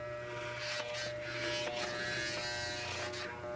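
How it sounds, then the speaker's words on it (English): Electric hair clippers buzz steadily while shaving a Deathhawk haircut, a close, continuous motor hum with brief dips and scrapes as the blade passes through hair. "what I'm doing here is I'm shaving and then tipping the hair that I just shaved off forward into the trash can"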